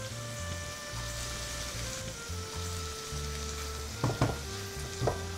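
Chopped tomatoes sizzle in a hot pan for Jain dhaba-style paneer bhurji, a steady crackling fry with stirring clatters near the end, heard alone beneath a faint background tone.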